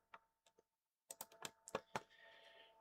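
Computer keyboard keys clack in short bursts, a few isolated taps followed by a quicker cluster of close, crisp keystrokes with no one talking.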